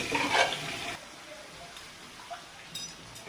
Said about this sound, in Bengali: দিয়ে এবার মশলাটা একটু ভেজে নিই